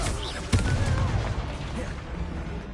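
A Confringo blast spell goes off in the Hogwarts Legacy video game: one sudden booming burst that fades into a rumbling game background.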